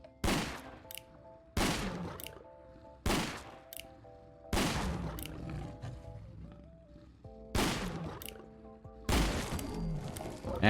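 Six loud revolver rifle shots from the game Fallout 4 are fired at a Deathclaw. Each sharp crack comes at irregular intervals and rings out briefly, with a faint game tone humming between shots.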